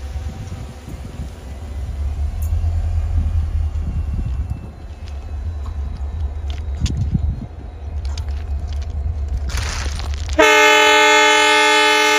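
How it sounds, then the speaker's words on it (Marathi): A high-speed test train on the Vighanwadi–Rajuri line in Beed rumbles past with rattling and rising noise, then a loud, sustained horn blares near the end, close by. "माझ्या मागं पाहू शकता मित्रांनो की गाडीचं हॉर्न आला आहे"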